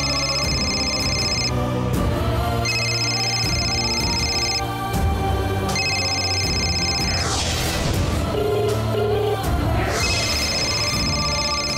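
A telephone rings in a domestic scene of a Telugu TV serial, sounding as repeated bursts of bright electronic ringing separated by short pauses, layered over dramatic background music with no one speaking.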